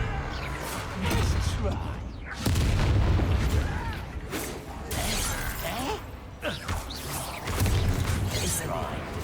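Blasting fire-curse spell bursting in the Hogwarts Legacy video game, several heavy booming explosions with shattering debris, spaced a few seconds apart amid game sound, with voices speaking between.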